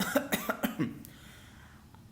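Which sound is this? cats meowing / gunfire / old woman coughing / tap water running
old woman coughing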